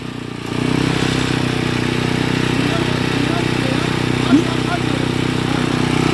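A small rotary tiller engine starts up and runs at a steady, loud droning putter close by, with a constant rhythm and one brief clank partway through.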